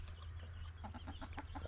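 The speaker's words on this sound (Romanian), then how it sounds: "Americanii, cocoșoi americani." American roosters clucking on a farm, a few short soft clucks in quick succession over a steady low background hum, faint and somewhat distant.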